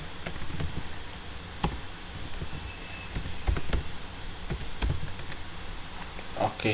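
Computer keyboard keys are struck in uneven bursts, sharp close clicks scattered over a steady faint background hum, with no talking.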